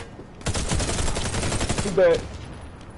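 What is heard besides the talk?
grenade explosion in a video game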